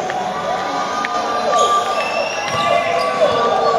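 Crowd cheering and shouting at a youth basketball game in a gym, a dense wash of voices with whistles and squeaks, people talking nearby throughout, loud and continuous.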